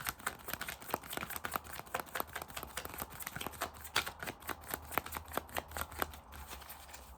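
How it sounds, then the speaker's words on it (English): Tarot cards being shuffled close by, a rapid run of crisp papery riffles and flicks with soft taps, steady for several seconds with no talking. "One more shuffle"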